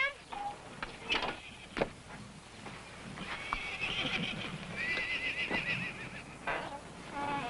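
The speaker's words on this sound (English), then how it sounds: "Hey, now, there's a real horse." A stallion neighs and whinnies several times, fairly quiet, with hoof clip-clops and soft background noise between the calls.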